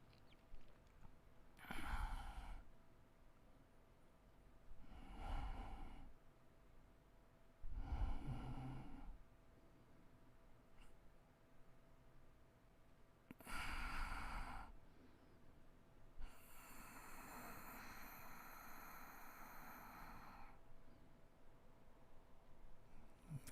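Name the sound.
breathing through the nose with lips sealed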